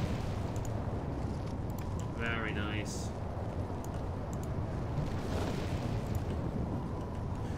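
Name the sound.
video game explosion of blood, viscera and fire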